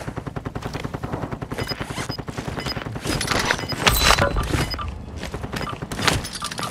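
Rapid bursts of automatic gunfire ring out in a Warzone 2.0 match, dense overlapping shots with heavier cracks and thumps in the middle, loud and close.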